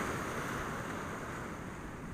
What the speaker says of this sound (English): There's a lot of white water here